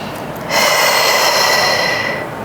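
A deep, drawn-out inhale taken during a Pilates exercise for a flat stomach, loud and close, lasting about two seconds after a brief quieter lead-in, with no voices.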